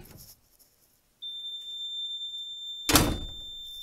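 A fire door swings shut as its door holder releases, landing with one loud thud near the end, while a steady high electronic tone from the alarm system sounds before it.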